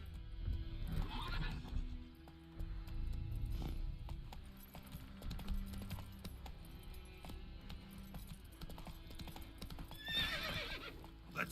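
Roach, the horse in The Witcher 3, clip-clops along with steady hooves and lets out whinnies near the start and again toward the end, over an ambient game backdrop, with no talking.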